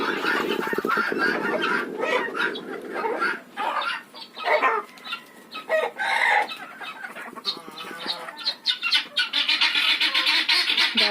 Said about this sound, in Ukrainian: Цесарочки одразу починають кричати, як завжди.